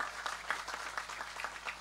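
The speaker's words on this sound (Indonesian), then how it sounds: "Tepuk tangan untuk menyenangkan semuanya." Spectators at a wayang santri shadow puppet performance break into applause, a quiet, distant patter of many hands clapping steadily for a couple of seconds.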